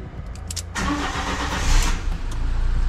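An engine-swapped Fiat 500 cranks and catches, then settles into a steady, rumbling idle at about 900 RPM.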